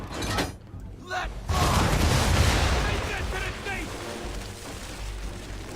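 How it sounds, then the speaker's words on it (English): Ship cannons firing a broadside in Assassin's Creed 3, a loud burst of booming shots followed by a sustained rumbling roar and scattered cracks that slowly fade. "Hold it and release to fire the cannon."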